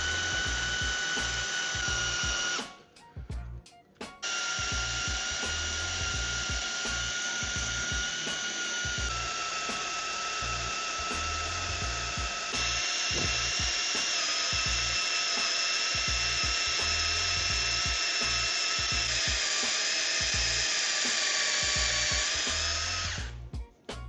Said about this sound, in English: I'm using a 3/16 bit here.